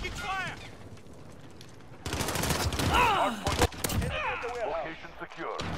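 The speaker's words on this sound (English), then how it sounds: "I'm taking fire." Gunfire in a Modern Warfare match: quick bursts of shots crackle loudly, with a sharp heavy volley midway, over game sounds and chatter.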